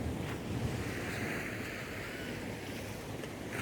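Surf washing steadily onto Matawe Beach in Dingalan, Aurora, a soft continuous roar of breaking waves mixed with wind buffeting the microphone, fairly quiet and with no voices.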